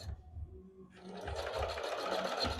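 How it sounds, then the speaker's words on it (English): A sewing machine fitted with a bias binder foot stitches bias tape onto fabric. A brief pause gives way to a steady, rapid whirring stitch rhythm, close but fairly quiet. "you're going to keep on sewing until you get to the end"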